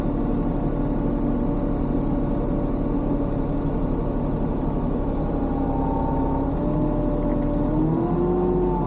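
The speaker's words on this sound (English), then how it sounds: "I've always wanted to ride or play on or operate an excavator" A heavy excavator's diesel engine runs steadily at close range while clearing rocks after Hurricane Helene, a continuous deep rumble with rising and falling pitch as the machine works.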